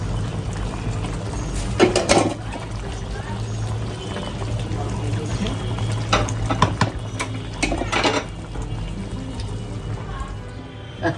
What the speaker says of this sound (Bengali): কাঁঠাল আধা সিদ্ধ হয়ে গিয়েছে, এখন আমি ভালো করে ছেঁকে ফেলব